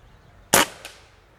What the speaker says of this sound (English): We're gonna shoot it with no mag.